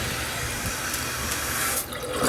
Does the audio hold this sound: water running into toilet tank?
yes